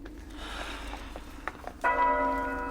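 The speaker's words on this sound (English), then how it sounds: "Why are they ringing that bell?" A large old bell rings out loud and suddenly after a stretch of quieter ambient noise. The strike lingers with a long sustained ring, and several softer knocks come before it.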